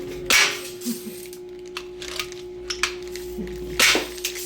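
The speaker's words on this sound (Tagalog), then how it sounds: "So ngayon nakikita nyo po, nakakailang putok na po si Dayan." A 350W pellet gun fires sharp single shots spaced a few seconds apart, loud and close, over a steady electrical hum.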